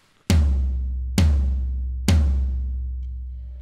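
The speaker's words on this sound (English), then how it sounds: "This big guy down here is called a floor tom." A floor tom on a drum kit struck three times at an even, unhurried pace, each hit a deep booming thud that rings out and slowly decays, heard alone with no talking.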